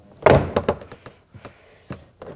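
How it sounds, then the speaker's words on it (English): Plastic push pins on a rear door panel of a 2015-2024 Nissan Murano pop loose in a quick series of sharp thunks and clicks, one strong snap followed by several lighter pops, close up. "Now I want to go ahead and pop off our door panel, and the door panel is held on by a series of plastic push pins"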